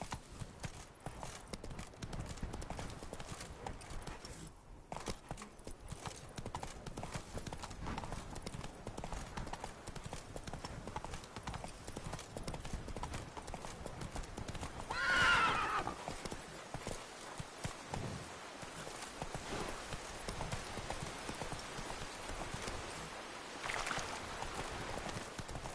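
Horse hooves clip-clop in a steady galloping rhythm throughout, ridden in the video game The Witcher III, with a brief whinny midway and game ambience and occasional voices underneath.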